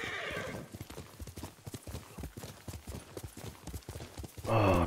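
A horse in Ghost of Tsushima gallops with a brisk, regular clatter of hooves, then gives a loud whinny at the end.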